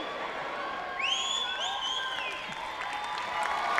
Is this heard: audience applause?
yes